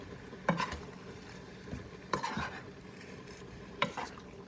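Spaghetti sauce is mixed into cooked noodles in a pot. A spoon scrapes and stirs with soft wet squelches in three distinct bursts, over a faint sizzle. The sound is fairly quiet and close, with no talking.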